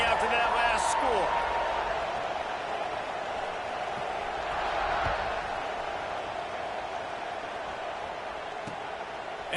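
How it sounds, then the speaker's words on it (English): Stadium crowd in a college football video game, Notre Dame against Clemson, a broad steady roar of buzzing fans held at a constant level behind a commentator's voice. "this crowd is buzzing after that last score"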